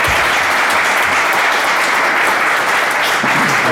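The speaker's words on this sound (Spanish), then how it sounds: "vamos a darle un completo aplauso a nuestro autor, Marcos López Serrador." An audience breaks into sustained applause for an author at a book presentation in Madrid, a dense, even wash of clapping from many hands that holds steady for several seconds without voices.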